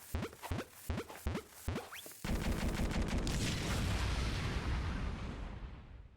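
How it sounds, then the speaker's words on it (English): Bombs in Super Bomberman R Online go off one after another in a chain reaction: several quick sharp blasts, then a loud, sustained roaring explosion that slowly fades out. "pay attention to the explosion when we set them spaced and have multiple bombs again"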